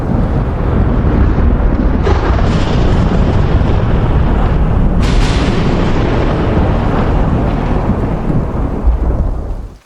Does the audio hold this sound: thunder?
yes